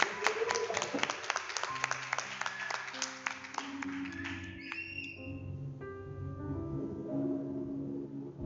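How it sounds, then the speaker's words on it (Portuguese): A church congregation applauds, with dense clapping that is loud at first and then thins out as sustained organ or keyboard chords rise and carry on beneath it. "dê uma linda salva de palmas para o Senhor Jesus"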